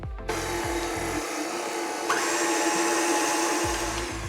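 An electric mixer beats sponge cake batter containing eggs with a steady close whir, briefly interrupted by low knocking before the motor runs on evenly.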